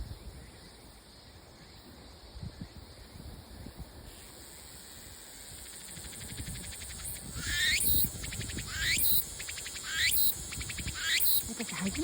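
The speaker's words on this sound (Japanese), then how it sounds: "セミを見つけたのって。 鳴いてるところ。" A cicada sings from high in a tree outdoors, a steady shrill buzz with repeated rising, pulsing sweeps that grow louder toward the end.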